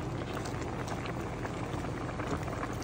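Tilapia in coconut milk at a steady rolling boil in a pot, with a dense continuous bubbling and hiss heard close and alone.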